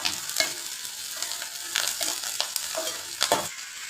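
Onion and green chilies sauté in a pan with a steady hiss of frying, broken by several scraping strokes of a spoon stirring, close up and with no talking.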